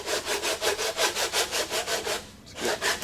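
Repeated back-and-forth rasping strokes of sanding on a ram air manifold for a 1976 Pontiac Trans Am, close and loud, about a dozen even strokes with a brief pause before resuming.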